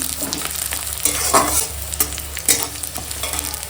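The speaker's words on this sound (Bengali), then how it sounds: "এখন দিয়ে দেব ওই যে তেজপাতা আর পাঁচ ফোড়ন" Bay leaf and panch phoron sizzle in hot oil in a pan, crackling close up with a few sharper pops and stirring scrapes, no voices over it.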